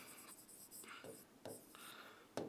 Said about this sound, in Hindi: तो मैं यहीं पर सिंपल सा लिख लेता हूं